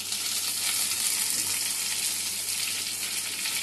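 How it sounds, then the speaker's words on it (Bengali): Mixed vegetables such as papaya and potato sizzle and fry steadily in a hot pan with bitter gourd, a dense continuous crackle with no voices over it. "আমি এর মধ্যে সব সবজিগুলো দিয়ে আবার ভালো করে ভেজে নিয়ে ঢাকা দিয়ে দেব।"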